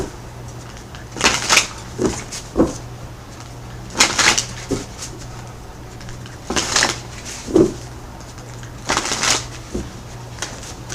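Tarot cards are shuffled by hand in four separate riffling bursts, each followed by soft taps as the deck is squared, with quiet pauses between.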